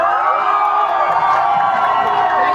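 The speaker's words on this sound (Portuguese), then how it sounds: "quero uma salva de palmas também para a deputada federal Érica Hilton." Large crowd at a political rally in Guarulhos, Brazil, cheering and applauding for a federal deputy, a loud steady roar of claps and shouts with no clear breaks.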